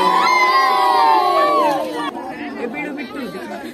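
Children and adults at a young girl's fourth birthday party shout together loudly in a continuous crowd roar of excited voices with cheering, fading into scattered chatter near the end.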